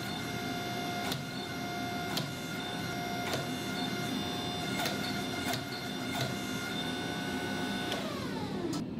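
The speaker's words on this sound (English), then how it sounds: "it was time to take it to the press, draw out the tang" A forging press drawing out the tang of a mosaic Damascus steel cleaver gives a steady, loud mechanical drone with a rising whine and regular sharp clanks about once a second, heard close with no talk.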